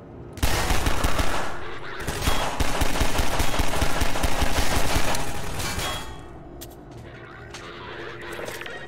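Sustained automatic gunfire and explosive bursts in the Half-Life 2 VR mod, loud and dense for about six seconds, then easing into scattered shots and softer action noise.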